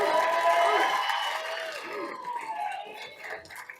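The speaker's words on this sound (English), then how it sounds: "let's give him an extra round of applause" A crowd at a Tucson city council meeting applauds and cheers to honor a city champion youth basketball team, loud at first with whoops over clapping, then tapering off.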